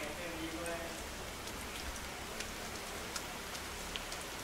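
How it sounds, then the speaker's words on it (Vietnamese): Steady rain hisses across the whole span in the survival video game The Forest, a dense even patter with scattered droplet ticks and no speech over it. "Ừ, nghe thấy mưa chân thật luôn á chứ."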